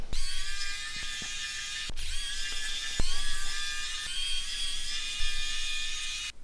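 Small Torx screws being backed out of a Sony Ericsson CK13i phone, giving a close, quiet run of fine ratcheting clicks with a few sharper ticks and no talk.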